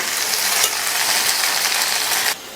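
A metal dosa spatula scrapes and stirs taro root (seppankizhangu) frying in hot oil with masala, giving a close, steady sizzling rasp that cuts off abruptly near the end.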